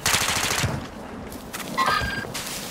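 Rapid automatic gunfire rattles in a first-person shooter game, loud bursts of shots with a short lull in the middle before firing resumes, no talking over it.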